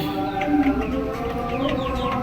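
Chickens clucking inside a coop, a close chorus of overlapping clucks and low calls from several birds.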